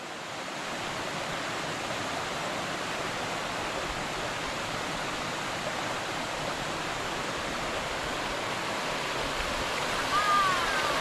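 A waterfall at a secret falls in the Kimberley pours in a steady, dense roar of rushing water that holds evenly throughout, close and loud with no other sounds standing out.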